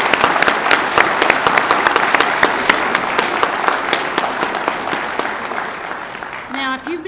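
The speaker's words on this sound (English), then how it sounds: "can we give all the heroes another round of applause?" A large audience at a live celebration of heroes breaks into a loud, dense round of applause that slowly thins out, and a voice starts speaking at the end.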